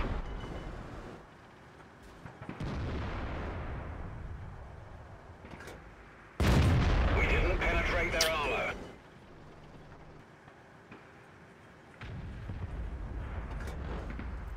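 A tank cannon fires in World of Tanks, one loud, sharp boom with a short rumbling tail that stands out between stretches of someone talking over quieter battle noise.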